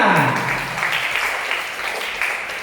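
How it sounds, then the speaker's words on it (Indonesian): A crowd breaks into steady applause, a dense wash of many hands clapping that carries on throughout at moderate loudness. "tepuk tangan untuk semuanya"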